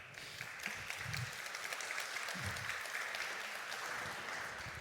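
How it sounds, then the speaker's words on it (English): Audience applause after a business talk on omni-channel sales, steady and sustained across the room with dense clapping throughout, moderately distant and without voices over it. "let's do one more round of applause"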